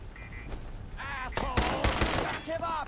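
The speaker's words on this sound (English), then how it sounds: "Oh, that was terrible shooting." Gunfire in the video game Fallout 4, a burst of several sharp shots clustered in the middle and end, mixed with game effects and a voice speaking over the action.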